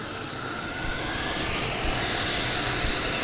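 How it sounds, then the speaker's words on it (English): A small jet engine on a jet-powered mini motorcycle at a car show roars in a steady broadband whoosh with a faint rising whine, fairly loud and continuous, no voices. "Richard is getting ready to get on this jet-powered mini motorcycle. And he is there. He's going to fire it up."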